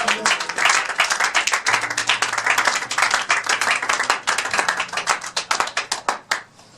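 A church congregation claps rhythmically and applauds for Jesus, with dense, loud, steady handclaps continuing throughout, a faint low tone held underneath.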